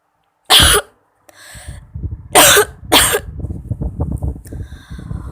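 A girl coughs three times, sharp and loud in quick succession up close, from cigarette smoke, followed by a lower rumbling background of murmuring noise.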